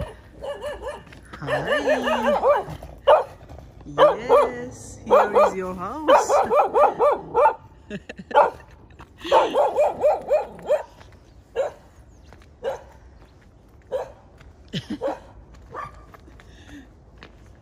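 A puppy at a house in old Oslo on a winter day barks in bursts of sharp, high yips and whimpers, close and loud, with someone talking between and over the barks.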